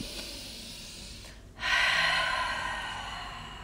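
Slow exhale out through the mouth during pregnancy yoga, preceded by a soft inhale, then a long breathy release that gradually fades, close and quiet with no talking.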